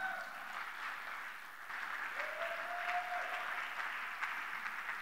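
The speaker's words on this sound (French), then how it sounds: "Est-ce qu'on peut acclamer pour Jésus?" A church congregation applauds for Jesus, giving a steady, fairly distant wash of clapping hands that swells slightly midway and continues for several seconds.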